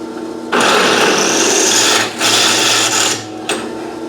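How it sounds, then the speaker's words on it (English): A drill press runs loudly with a steady mechanical whine while drilling a trailer tailgate ramp through a starter hole, briefly dipping twice as the load changes, then starting up again near the end. "This daggone drill press, I'm going to put a bicycle chain on it so it'll go through."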